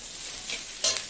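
Fried chow mein noodles are stirred and tossed in a hot pan, a short scraping, sizzling burst with one louder scrape near the end.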